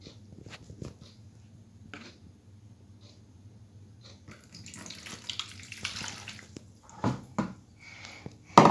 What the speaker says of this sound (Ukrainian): От дивіться, ми наливаємо води.